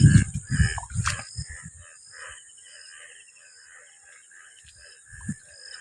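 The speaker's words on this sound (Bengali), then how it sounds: "দেখো ব্যাঙ কেমন ডাকছে" Frogs croak in a village field during the rainy season after an afternoon rain, a thin, scattered chorus of calls. Low rumbling bursts open the clip and return briefly near its end.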